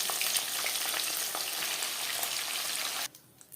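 Pabda fish, a soft freshwater fish, frying a few pieces at a time in hot oil in a wok: a steady, close crackling sizzle that cuts out abruptly near the end, leaving quiet.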